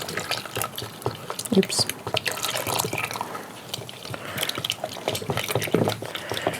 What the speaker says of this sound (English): And just stir that.